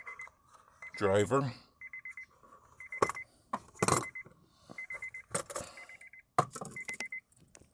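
A 2006 Honda Odyssey EX key-in-ignition warning chimes in a steady repeating pattern of short beeps, with someone talking over it and clunks of radio installation work in between.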